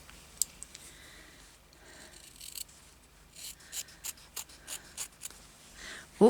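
Scissors snipping paper while making junk journal ephemera, a series of quiet, close crisp cuts that grow into a steady run of separate snips in the second half.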